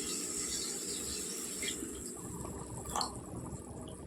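Water poured into a pan of tomato egg curry, a quiet, soft liquid fill with light splashing and dripping, then a small clink near the end, with no talk over it.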